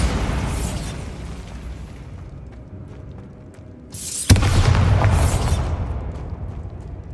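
A Bombarda spell explosion in the video game Hogwarts Legacy, a sudden loud blast that breaks in after a quieter rumbling lead-in, followed by a sustained roaring, crackling aftermath.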